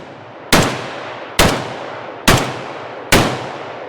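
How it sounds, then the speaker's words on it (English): A Zastava ZPAP M72 RPK rifle test-fired at a range: four loud, sharp gunshots spaced a little under a second apart, each followed by a decaying echo. "we'll dive in and just do an initial test fire with a few rounds"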